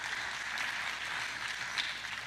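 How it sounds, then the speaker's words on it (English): Audience applause at an awards luncheon, a steady wash of clapping from a seated crowd, fairly soft and distant, lasting a couple of seconds with no talking. "A round of applause for that group."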